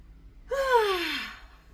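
Someone yawning in a relaxation group, one long breathy yawn with a falling pitch, close and clear over quiet room tone.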